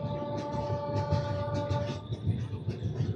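The Narayanadri superfast express runs near Guntur junction, a steady loud rumble of wheels and carriages with a sustained tonal whine for the first two seconds, then continued rolling noise and clatter.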